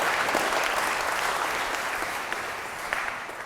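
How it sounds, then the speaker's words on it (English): An audience at a lifting seminar claps, a dense, sustained burst of applause that fills the space and slowly fades. "This guy loves clapping."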